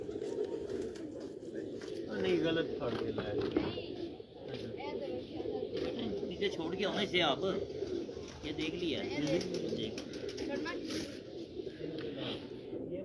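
Kagzi pigeons, an antique Sialkoti breed on a rooftop loft in Model Town, Sialkot, coo repeatedly in a continuous murmur while people talk nearby over them.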